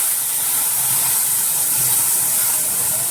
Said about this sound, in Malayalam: നമുക്കിനി ഇതിലേക്ക് കുറച്ച് പാല് ഒഴിച്ച് അതിനെ ഒന്ന് മിക്സ് ചെയ്യാം